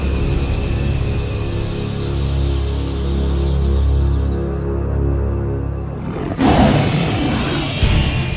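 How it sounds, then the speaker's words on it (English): A lion roars from far off on the African savanna, a deep, sustained rumbling call that swells and fades over several seconds before a burst of rustling noise near the end. "This roar from afar is a sound that spells trouble."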